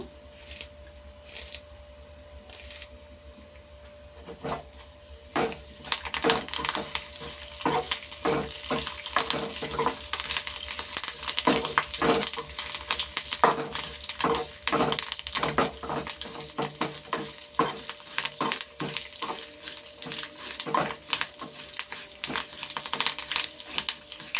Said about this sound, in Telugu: వేగుతున్నాయి కదండి, కరివేపాకు వేస్తున్నాను.